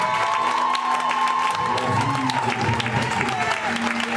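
A church congregation applauds and cheers together, a loud sustained wash of clapping with shouts and whoops rising over it, filling the whole stretch.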